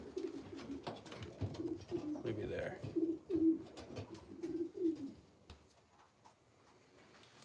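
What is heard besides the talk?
breeding birds in a loft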